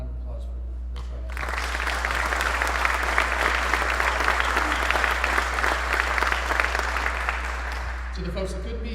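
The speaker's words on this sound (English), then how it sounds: "So, round of applause for their trial." Applause from the audience at a military squadron change of command ceremony, a dense wash of clapping that starts abruptly and holds steady for several seconds before fading, over a constant low hum.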